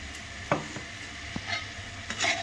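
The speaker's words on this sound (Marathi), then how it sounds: "खोबरं टाकायचं." Ground coconut tipped into a garlic-ginger paste roasting in a pan and stirred in, giving a soft scrape and clatter of stirring with light sizzle, a few sharper knocks near the start and a brighter burst of stirring at the end.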